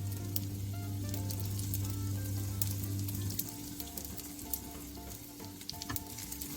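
Vegan bacon strips frying in a pan, a dense close sizzle with scattered crackling pops running throughout, steady and fairly loud with no voices.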